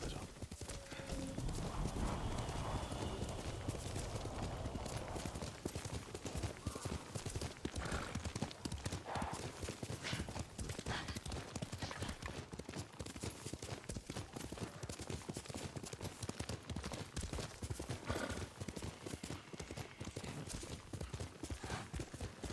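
A horse in the video game Ghost of Tsushima clip-clops in a steady, rapid hoofbeat rhythm throughout, with occasional neighs, and voices sound faintly beneath the hooves.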